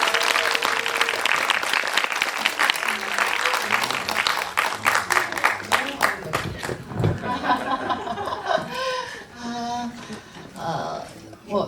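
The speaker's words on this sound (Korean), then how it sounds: "박수로 맞아주십시오" A cinema audience at a film screening Q&A applauds as two directors come out. The clapping is thick at first and thins out after about six seconds, leaving scattered claps with voices and movement in the room.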